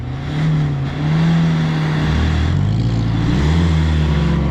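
A wreck race car's engine revs hard in reverse, a loud close drone that surges and shifts pitch while the car strains to pull free.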